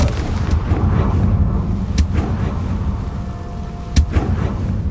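Confringo fire spell blasts from the Hogwarts Legacy video game boom in a dense, loud game soundscape, with sharp impacts at about two-second intervals over a continuous rumbling background.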